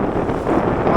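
Strengthening wind buffeting a small sailboat sailed solo, a dense steady roar of gusts across the microphone lasting about a second, loud and close with no voices.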